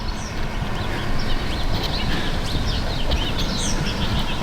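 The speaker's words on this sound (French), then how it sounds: "Malgré le bruit des voitures, en ce moment, on entend une multitude d'oiseaux." A multitude of birds chirping and singing along a Montreal walking path, with a constant roar of nearby car traffic underneath; the calls are bright and scattered across the busy background.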